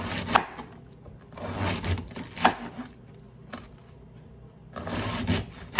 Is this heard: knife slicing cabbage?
yes